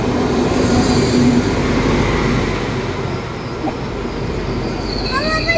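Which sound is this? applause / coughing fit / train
train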